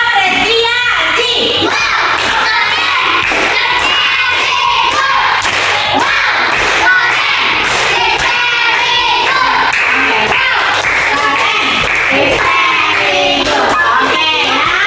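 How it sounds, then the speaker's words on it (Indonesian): A class of schoolchildren claps in appreciation, loud and close, in rhythmic patterned bursts mixed with children's shouts and voices throughout. "Apakah silakan tepuk apresiasi."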